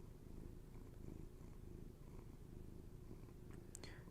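A pet cat purrs close up with a steady low rumbling purr, continuous and even throughout, with a faint brief rustle near the end.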